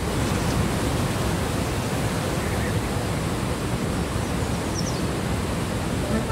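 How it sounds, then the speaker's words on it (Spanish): Steady, dense roar of the Iguazú falls in Misiones' hill country, a continuous broadband rush of crashing water that holds loud and unbroken throughout, with no voices. "Las cataratas del Iguazú"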